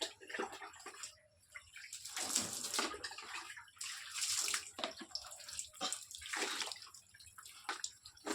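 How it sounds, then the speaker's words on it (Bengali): Water splashes and pours as a person bathes on a winter morning, bursts of running and sloshing water coming and going with short pauses between, fairly close and without talk. "খুব ভালো লাগে সকালবেলা যদি স্নান করা যায়"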